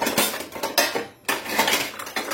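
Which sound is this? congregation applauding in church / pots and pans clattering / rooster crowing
pots and pans clattering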